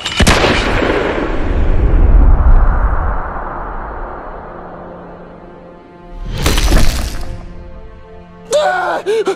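A gunshot fired at Jeffy, a loud sharp blast near the start that rings out and decays, followed by a second burst of impact noise midway and a voice speaking at the end.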